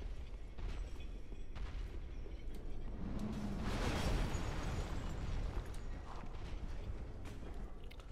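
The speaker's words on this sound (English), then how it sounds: "Exploding bolts." Exploding bolts bursting in Dark Souls 3, with a swelling blast near the middle over busy game noise, scattered sharp clicks and impacts around it.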